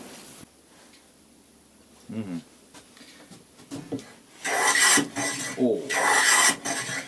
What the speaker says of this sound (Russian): железки от рубанков точатся по точно такому же принципу. Устанавливается угол, ставится железка и шлифуется.